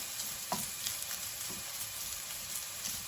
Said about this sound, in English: Stir the bacon at the same time.